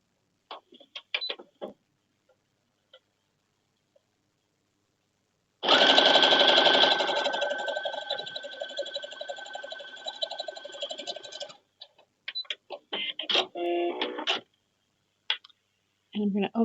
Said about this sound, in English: and then we're just going to turn it over and sew it on down the line